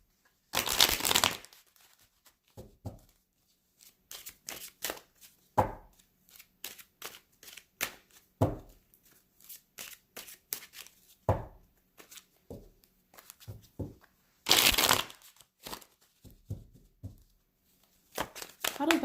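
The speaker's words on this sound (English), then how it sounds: "Let me shuffle these in too." Tarot cards are shuffled by hand in repeated crisp riffling bursts, close and fairly loud, between stretches of quiet talk.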